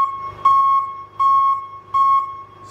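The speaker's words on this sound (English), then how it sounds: "an alarm goes off. That alarm tells everybody in the building that there's a possibility of a fire" A fire sprinkler flow switch alarm sounds, a loud electronic tone pulsing in three evenly spaced bursts with short quiet gaps, clear and close.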